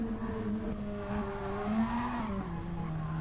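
A race car engine rounds the final turn of a lap in a GR2 pre-season test, a sustained mid-distance engine tone with rising and falling pitch as it works through the corner.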